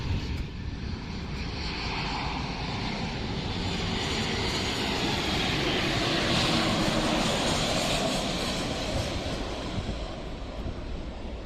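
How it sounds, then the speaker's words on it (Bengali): A loud, steady jet engine roar from a white airliner approaching to land at Dhaka fills the scene, with a broad whooshing rush and some wind buffeting. "ঢাকায় অবতরণের জন্য এগিয়ে আসছে সাদা রঙের বিবিএন এয়ারলাইন্সের এই বিমান"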